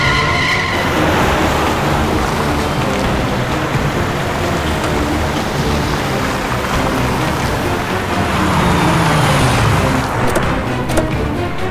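A car rumbles past with a broad, steady roar that swells and fades over several seconds, loud and close, mixed with rushing noise in a crime-drama chase scene.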